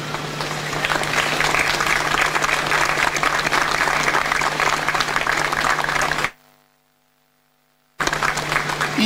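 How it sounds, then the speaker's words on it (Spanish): Crowd applause at an outdoor farewell ceremony in front of a municipal arts centre, loud sustained clapping from many hands that cuts out abruptly to near silence, then resumes just as strongly. "Un fuerte aplauso, Jorge."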